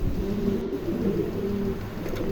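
A pair of Mondain pigeons coo softly and continuously, low rolling calls close by with steady background noise and no talking.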